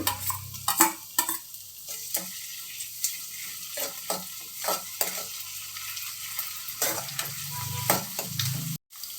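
Ginger garlic paste sizzles and fries in a pan for egg masala, a steady close crackle broken by repeated scraping stirs, with no voices.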